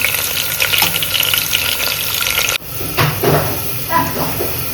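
Sliced onion fries in hot oil, browning for a vegetable pulao, with a loud, constant sizzle and crackle throughout; midway there is a sudden dip and shift as the pan is stirred, then the bubbling hiss resumes.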